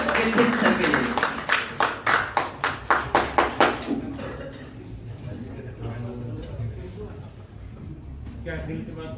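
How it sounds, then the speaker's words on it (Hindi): Audience applause at a state teachers' meeting, rhythmic unison clapping for a few seconds that fades into scattered claps and crowd murmur, loud and close. "एक बार जोरदार ताली बजा दें"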